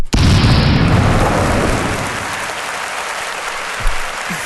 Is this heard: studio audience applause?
yes